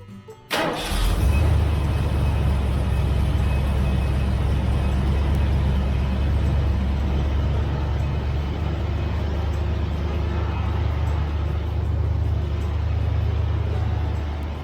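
An old Ford Dentside pickup, a barn find running on its original factory fuel tank, cranks briefly and fires up, then settles into a loud, steady idle that holds close and continuous throughout.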